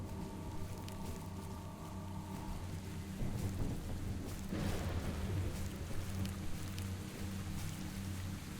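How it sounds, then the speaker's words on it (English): Rain pours steadily in a S.T.A.L.K.E.R. game thunderstorm while a deep thunder rumble rolls in midway, a dense, continuous wash of rainfall with low booming underneath. "Looks to be a pretty stormy,"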